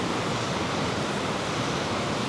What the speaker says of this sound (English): This river is one of the two that lead into Boscastle.